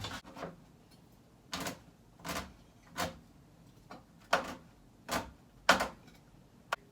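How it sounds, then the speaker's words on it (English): A knife cuts a chocolate bar into strips on a board, giving about seven quiet, crisp chops spaced roughly a second apart, close and alone. "Just break it up into like strips and just cut it."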